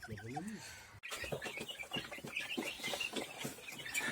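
Chicken chicks in a muddy coop yard cluck and cheep in a busy scatter of short calls, close and moderately loud, following a brief voice at the start.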